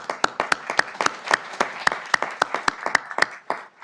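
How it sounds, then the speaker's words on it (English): An audience at a city council session applauds steadily, many hands clapping together in a dense, lively burst with sharper individual claps standing out. "we're going to give you a round of applause"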